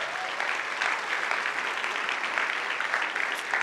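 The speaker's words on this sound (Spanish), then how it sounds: "Dale un aplauso a Jesucristo." A crowd gives sustained applause for Jesus Christ at a motivational talk on overcoming fear, a dense, steady wash of clapping that holds level throughout with no voices above it.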